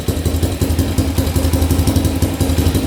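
A restored 1980 Honda dirt bike with an aftermarket exhaust idles loud and close after sitting unrun for 34 years, its single-cylinder engine chugging in a steady, rapid, slightly uneven pulse.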